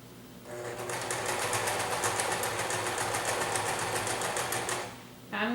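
A sewing machine runs steadily for about four seconds, reverse stitching a cotton face mask seam to secure it, with a rapid needle rhythm, close and fairly loud, then stops.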